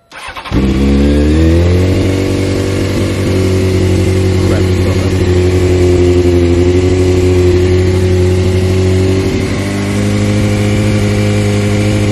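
A wrecked Honda CBR600F4i motorcycle engine starts and settles into a loud, steady idle, a close, continuous low rumble that stays running throughout.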